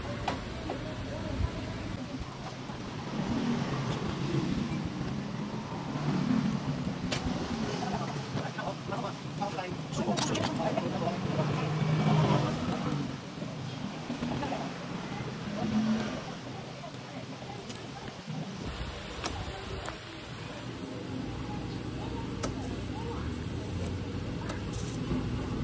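A Yamaha BWS'R 125 scooter engine, one that tends to stall without throttle, idling steadily after starting, a continuous close rumble with a light ticking texture throughout.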